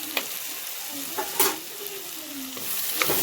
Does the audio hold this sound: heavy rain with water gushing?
no